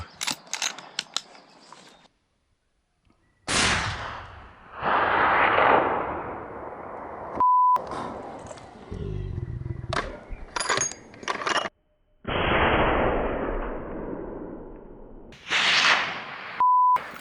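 Rifle fired at a fallow deer while hunting outdoors: several loud, close, sharp bursts with long decaying tails, separated by near-silent gaps and handling noise.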